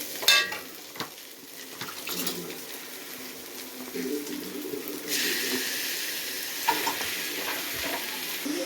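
Chicken dropped into a pan of sautéed ginger-garlic paste and stirred, giving a steady sizzle with scraping spoon strokes and a few clinks, fairly close and moderately loud, with a brief louder hiss partway through.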